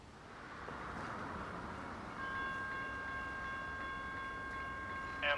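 Amtrak Regional train 94, led by locomotive 45, rolls into Ashland station in Virginia with a steady low rumble, then sounds a long, loud multi-tone horn that holds to the end.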